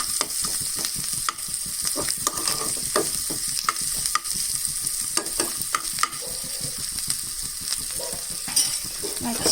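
Pickle with freshly chopped coriander is stirred in a hot pan, giving a constant oily sizzle broken by repeated close scrapes and clicks of the spoon.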